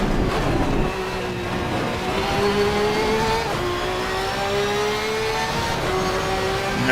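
A BMW M4 GT3 race car engine revs hard and steadily in the Assetto Corsa Competizione racing game, pitch climbing through the gears with short dips at each upshift. It sounds loud and close, with no voices.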